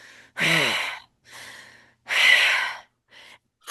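A voice imitates heavy, rasping creature breathing: long drawn inhales and exhales alternating with pauses, close and loud.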